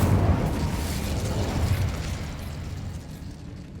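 The Incendio fire spell is cast in Hogwarts Legacy, giving a loud whooshing burst of flame at the start that rumbles on and slowly fades over several seconds, with no talking.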